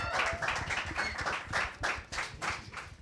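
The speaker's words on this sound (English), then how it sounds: "Let's give them another round of applause." Audience at a live student music showcase clapping for performers, a fairly close, uneven patter of individual claps that swells and dips in rhythmic bursts.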